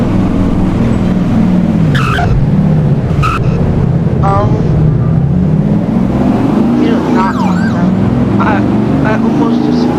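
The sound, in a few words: truck driving and skidding, nearly flipping, in a video game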